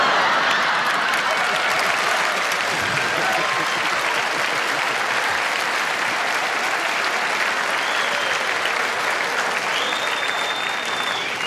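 Sustained, dense studio audience applause on the Tonight Show with Johnny Carson during the 10th anniversary broadcast, steady and loud throughout with no talk over it.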